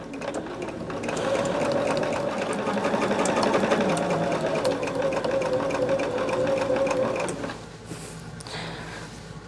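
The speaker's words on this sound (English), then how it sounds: "I'm going to try sewing it from the top side this time." A sewing machine stitches a quilt block in one long steady run of fast mechanical whirring and clicking, loud and close, before winding down and stopping near the end.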